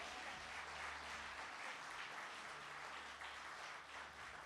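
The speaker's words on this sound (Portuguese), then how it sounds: "Pode aplaudir o Senhor, Ele merece." A congregation applauds in church during a sermon, steady dense clapping heard faintly and at a distance over a low hum for several seconds.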